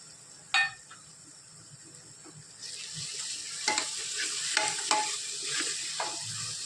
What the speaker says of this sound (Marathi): मी दोन मिनटं परतून घेणार आहोत